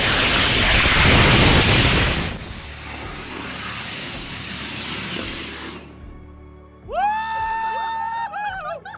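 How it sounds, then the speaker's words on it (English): Aegis rocket engine igniting for a static fire test in the Mojave Desert, a loud roaring blast of broadband noise that fades over several seconds, followed by a rising whistling tone near the end. "We're out here at the FAR testing facilities in the Mojave Desert doing the Aegis rocket fire test"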